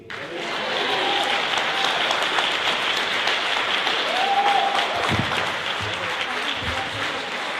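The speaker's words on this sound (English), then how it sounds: "Can we have another round of applause" Sustained audience applause at a live healing-through-pain speaking event. Loud, dense clapping swells quickly and holds for several seconds, with faint voices and cheers mixed underneath.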